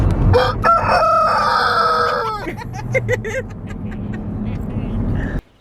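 A rooster inside a van lets out a loud, close crow with harsh harmonic cries, followed by scattered clucks over a steady low vehicle rumble.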